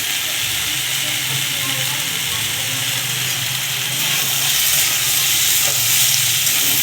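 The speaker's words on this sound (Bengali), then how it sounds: "আলুগুলোকে তেলের সঙ্গে ভালো করে ভেজে নেব" Potatoes frying in hot oil give off a loud, steady, close-up sizzle that holds an even hiss throughout and swells slightly toward the end.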